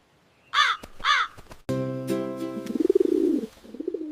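Two loud, harsh crow caws ring out close together near the start, followed by a brief gap and then a bright musical passage.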